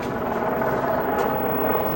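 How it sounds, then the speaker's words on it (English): A news helicopter passing overhead, its rotor and engine roar filling the background as a steady, fairly loud drone that persists for the whole moment with no speech. "we have a news helicopter that's decided to ruin my video"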